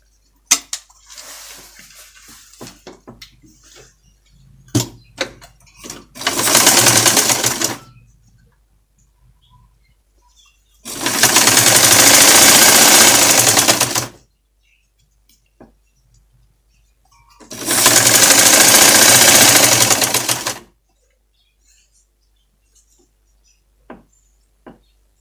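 A sewing machine stitches a zipper into fabric in three sustained bursts, each a few seconds long and separated by quiet pauses with small handling clicks.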